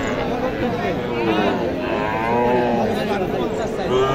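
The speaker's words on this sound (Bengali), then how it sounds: "এখানে একটি আছে ষাঁড় বাছুর" A bull calf lows in long, wavering moos over a noisy crowd of livestock and murmuring people at a cattle market.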